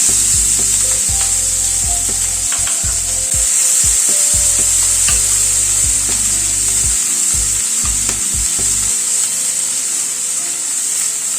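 A large chopped onion fries in a pan over a medium gas flame, giving a loud, continuous close sizzle with a low steady hum beneath it.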